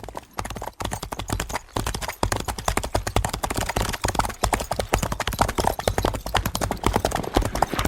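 Hooves of ridden horses clip-clop in a quick, steady, close rhythm that runs without a break from start to finish.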